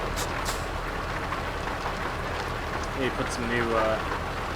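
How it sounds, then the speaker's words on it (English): Steady rain drumming on a Kenworth truck's exterior in American Truck Simulator, a dense, loud hiss throughout with someone talking over it. "Man, it's still raining, huh?"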